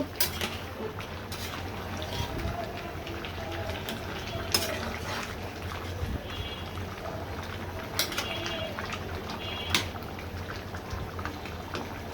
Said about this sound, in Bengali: এভাবে আরো কিছুক্ষণ জাল দিয়ে নিয়ে কষিয়ে নিতে হবে সুন্দর মতো।